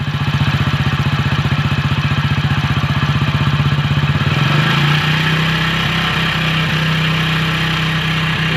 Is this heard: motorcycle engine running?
yes